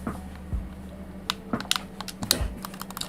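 Keyboard typing for a Minecraft sign, a quick irregular run of close, crisp key clicks with a couple of heavier thumps.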